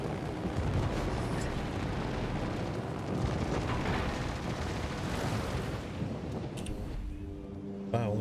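Torpedo hits exploding in a naval battle video game: a continuous, rumbling roar of blasts and booming impacts that slowly fades, ending in a few faint tonal game sounds.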